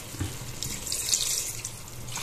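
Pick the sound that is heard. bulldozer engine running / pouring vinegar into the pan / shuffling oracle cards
pouring vinegar into the pan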